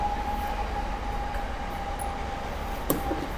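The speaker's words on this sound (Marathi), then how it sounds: "परत ट्रेन आली आता परत आवाज येईल" A train rumbles past with a steady low roar and a sustained whistle-like tone, with a brief sharp clank near the end.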